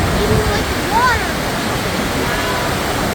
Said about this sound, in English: crossing this magnificent river. Look at the power of the river